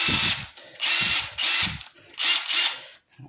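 A DeWalt flex shaft right angle attachment spins on a drill in five short bursts, a whirring, ratcheting mechanical buzz with brief pauses between runs.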